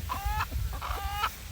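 Chickens in a chicken yard cluck close by, two short drawn-out calls in quick succession, loud and alone.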